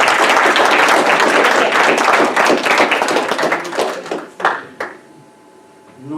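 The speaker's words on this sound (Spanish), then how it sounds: "Vamos a dar un aplauso al Señor." A church congregation claps together for the Lord, loud dense applause that thins out into a few scattered final claps and then falls quiet.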